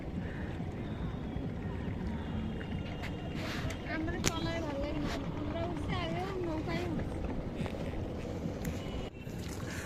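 A trawler boat's engine on the Ganges, a steady low droning rumble mixed with wind and water noise while people talk loudly over it throughout.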